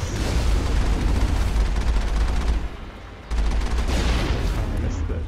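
Fireworks exploding in the video game Mass Effect, a dense continuous crackle of bangs and booms that dips briefly before resuming, loud and close.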